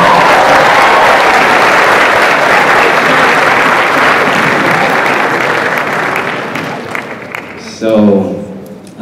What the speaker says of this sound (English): Everybody give Sonia Curry a round of applause.